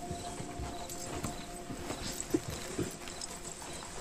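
A horse's hooves clip-clop at a slow walk on firm ground, moderately close, with a couple of sharper knocks standing out over steady outdoor background noise.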